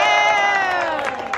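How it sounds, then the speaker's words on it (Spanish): A crowd aboard a pirate ship party cruise in Cancún cheers and shouts together in one loud, sustained burst of overlapping voices that tapers slightly toward the end. "Quiero un fuerte aplauso para Italia."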